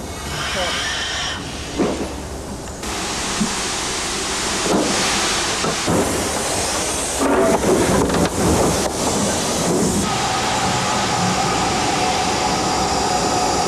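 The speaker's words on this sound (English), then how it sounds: "The yards at Sheffield Park are packed with locomotives and coaches, and in these conditions, any movement of stock calls for considerable flexibility." Steam locomotives and coaches shuffle about a crowded railway yard at Sheffield Park, giving a steady close rumble of rolling stock with hissing and scattered clanks and knocks.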